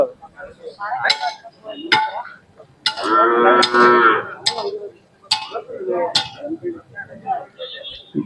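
A cow moos loudly once amid people talking and calling out at a noisy livestock show in Ghataprabha.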